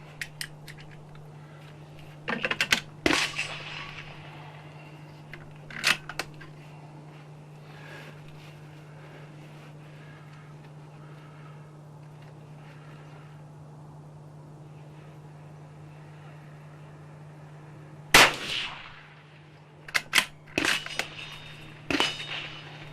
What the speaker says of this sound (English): We're going to send 5 of them down, then we're going to do a group comparison.